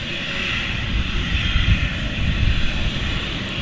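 Steady roar of an Austrian Airlines airliner's engines at Manchester Airport, a broad continuous rumble holding level for the whole stretch with no voices over it.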